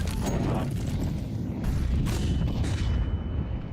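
A grenade blast in a military shooter game lands amid continuous heavy rumble and scattered gunfire, with a few sharp bangs rising from the dense low roar.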